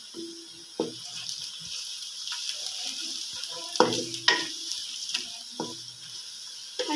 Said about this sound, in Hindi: प्याज इसमें डाल देंगे और आप अच्छे से फ्राई कर देंगे।